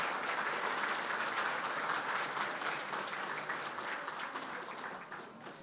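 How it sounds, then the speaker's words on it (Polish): Steady applause for teachers at a Polish high school prom ball, a dense wash of clapping from a large crowd that gradually softens. "brawa najpierw dla nauczycieli organu prowadzącego"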